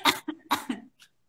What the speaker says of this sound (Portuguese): eu estou dando umas tossidas